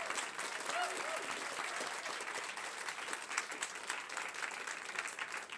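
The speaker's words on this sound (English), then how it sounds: "And an extra round of applause for Godzilla's friend Mothra there" Audience at a science-communication competition semi-final applauding steadily, a dense even wash of clapping held at constant level for several seconds with no break.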